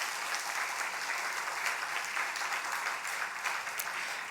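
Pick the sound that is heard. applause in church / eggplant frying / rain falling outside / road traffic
applause in church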